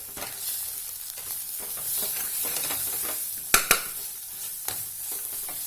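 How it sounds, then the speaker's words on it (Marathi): Red chilli powder, turmeric and salt stirred and fried in a pan, a soft continuous sizzle under scraping spoon strokes, with a couple of sharp knocks against the pan near the end. "हे मसाले छान आपण मिक्स करून घेऊया"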